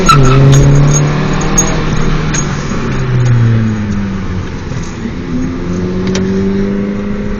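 A 2012 Fiat 500 fitted with a Power Pipe exhaust accelerates hard through first and second gear, the engine note climbing, dropping at the shift, then rising again, loud and steady with no talking.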